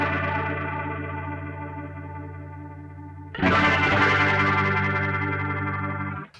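Sustained electric guitar chords swirl through a Boss RT-2 Rotary Ensemble pedal in stereo, one held chord then a fresh strum around the midpoint that rings out and fades.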